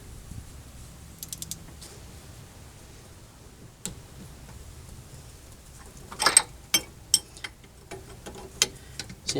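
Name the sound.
ratchet tightening Honda CR-V brake bolts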